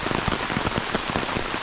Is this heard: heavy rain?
yes